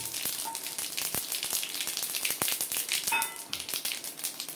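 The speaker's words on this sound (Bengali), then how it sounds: "কালো জিরে, সাদা জিরে আর রাঁধুনি আমি ফোড়ন দিয়ে দিলাম।" Black cumin, cumin and radhuni seeds spluttering in hot mustard oil for a tempering, giving a close, steady crackle with scattered sharp pops throughout.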